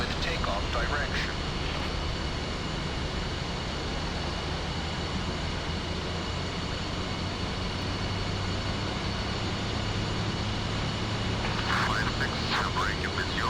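An F-5E jet in the DCS flight simulator rolls along the runway with a steady, loud engine whine and rumble that stays constant throughout, with short bursts of higher chatter near the start and end.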